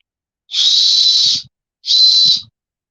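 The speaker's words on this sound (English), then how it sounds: "comes with an emergency whistle, fends off animals, and it has a compass on it too" Two loud, steady blasts from a shrill emergency whistle out of a wilderness bug-out bag, the first about a second long and the second slightly shorter, with a faint clatter after each.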